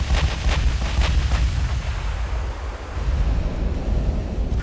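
Naval guns fire HE shells in the Ultimate Admiral: Dreadnoughts game, heard as several rumbling booms early on over a steady roar of wind and sea.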